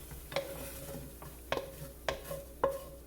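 Ground beef shepherd's pie filling scooped from a cast iron skillet into a 9x13 baking pan, four distinct metallic scrapes and clinks of a utensil against the pans, spaced about half a second to a second apart, over faint residual sizzle.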